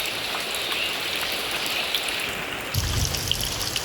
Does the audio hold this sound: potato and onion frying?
no